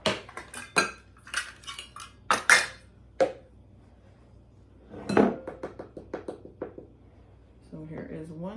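All-purpose flour measured with 1 cup and 1/2 cup measuring cups into a large mixing bowl, heard as clinks and scrapes of cups and utensils against the bowl. The bursts are close and separated by pauses, and a voice talks between them.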